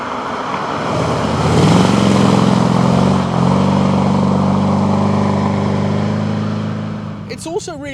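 An Iso Lele car engine drones steadily as the car drives, a loud, close, refined hum that swells and settles, with a brief higher whine near the end.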